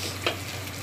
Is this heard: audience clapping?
no